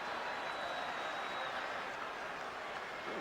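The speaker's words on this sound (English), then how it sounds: "A lively crowd at Yankee Stadium tonight." A baseball crowd at Yankee Stadium during a 1991 game against the Red Sox applauds and murmurs, a steady wash of clapping and cheering heard from a distance.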